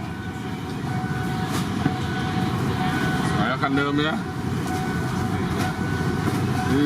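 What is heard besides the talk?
freight train passing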